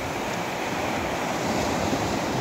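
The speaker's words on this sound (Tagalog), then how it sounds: "mag-ingat po dahil malakas po yung ipo-ipo na yan" Steady roaring wind from a whirlwind buffeting the microphone by the sea in Antique, Philippines, a dense continuous rush with surf washing underneath, no voices.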